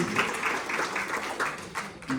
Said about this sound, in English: Let's clap for him for answering the question.